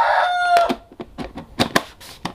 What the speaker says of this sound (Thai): ก็มีเสียงไก่ด้วยนะพี่น้องเนาะ